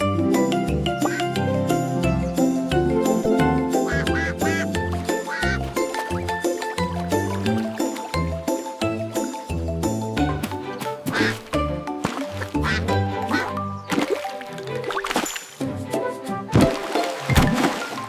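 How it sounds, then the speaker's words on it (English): Duck quacks repeat over a bright musical backing in a children's farm-animal sound lesson, steady and close throughout with no talking. "This is a duck. Ducks say quack quack."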